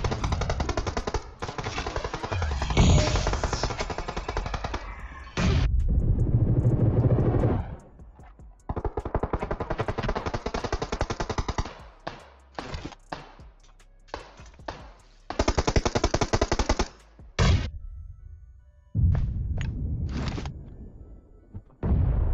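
Bursts of automatic gunfire in a battle royale shooter, rapid sustained volleys broken by short pauses, some loud and close, others thinner and farther off, repeating across the whole stretch with no talking.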